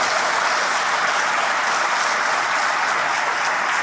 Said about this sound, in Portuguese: Vamos aplaudir o nome do Senhor, Deus?